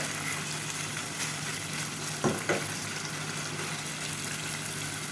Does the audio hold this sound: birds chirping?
no